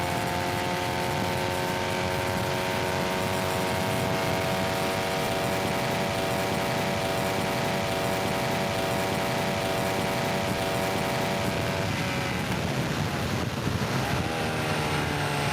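A race car at Sebring accelerates flat out with a loud, sustained engine whine that rises in pitch, drops briefly at a shift and climbs again, all under heavy wind rush.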